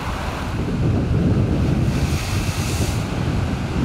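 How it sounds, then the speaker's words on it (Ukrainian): Sea waves wash against the shore under strong wind buffeting the microphone, a continuous loud roar of surf and gusts with no voices. "море, як море"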